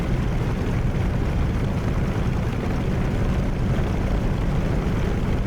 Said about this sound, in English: feeding in a tiny bit more throttle here just to get the Hellcat rolling